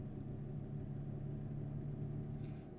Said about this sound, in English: it gets so loud when you stick your head out the truck